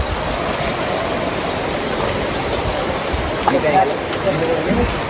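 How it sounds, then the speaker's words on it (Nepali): A river at Sukute Beach, Nepal, rushes continuously nearby, its broad wash of water noise steady throughout, with faint indistinct voices in the background. "खोलाको साउन्ड सुन्न मात्रै"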